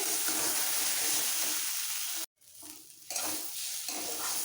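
Broad beans and mashed potato stir-fried in a pan for sim alu chokha, with a steady scraping stir and soft sizzle that breaks off briefly, then resumes in uneven strokes.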